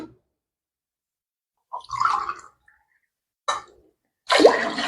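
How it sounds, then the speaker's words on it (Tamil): Sugarcane juice is poured from a tumbler into a pot for pongal, two or three short separate splashing pours broken by silence. "ஸோ இந்த கரும்பு ஜூஸ் வந்து 4 டம்ளர் நம்ம ஊற்றிக்கணும்."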